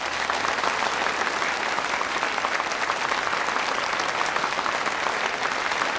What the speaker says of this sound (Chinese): 掌声很热烈啊